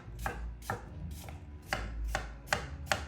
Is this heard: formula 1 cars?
no